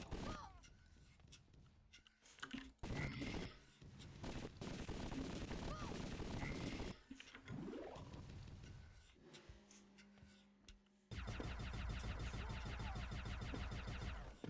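Rapid gunfire in a video game while running across exploding barrels, dense continuous shooting and explosions filling most of the stretch, with a harsh sustained burst near the end.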